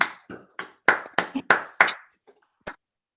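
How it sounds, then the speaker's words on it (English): A few people clap for a speaker at an online book launch: about eight separate, close hand claps in an uneven rhythm that thin out to one or two stray claps before silence. "let's give her a round of applause"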